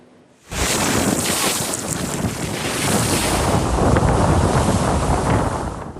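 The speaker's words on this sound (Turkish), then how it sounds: "Bazı sahillerde kıyıya vuran dalgalarsa kartpostallık görüntüler ortaya çıkardı" After a quiet start, a sudden surge of heavy southwesterly wind, gusting to 80 km/h in Istanbul, and crashing surf takes over, a loud, sustained roar of gusts and waves breaking on the shore.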